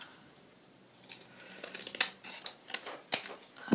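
Scissors cut material for a vintage-style travel-themed plaque, a series of close, quiet snips and crisp clicks spaced irregularly over a faint background.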